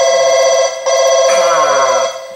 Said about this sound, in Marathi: आई शपथ फोन आला.